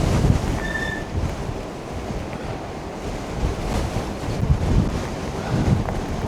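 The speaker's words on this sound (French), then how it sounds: "Il y a quand même du vent, là." Strong wind buffets the microphone during a ride on a Cyrusher Roam e-bike, a steady low roar with gusty swells rising and falling throughout, loud and close with no talking.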